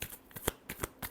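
A brief hand shuffle of tarot cards gives a few crisp, separate snapping flicks about a third of a second apart. It is close and soft, with no voice.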